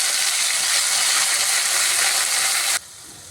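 Loud, steady sizzling of tomatoes sautéing in a pan, a dense hiss that cuts off abruptly near the end, leaving quieter background.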